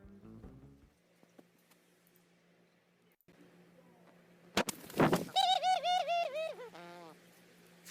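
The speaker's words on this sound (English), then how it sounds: "Yeah, laughing dove." A laughing dove gives a run of soft, bubbling, rising-and-falling coos in its chuckling rhythm, clear against a quiet background after a brief sharp sound.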